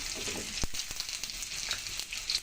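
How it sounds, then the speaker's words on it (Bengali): Cut eggplant pieces dropping into hot oil in a pan, a steady sizzle and crackle with a few sharp clacks as the pieces land and get stirred. "এখন দিয়ে দিচ্ছি কেটে রাখা বেগুনগুলো"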